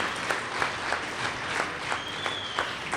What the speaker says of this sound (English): So a huge round of applause for you for hosting us once again in your wonderful city.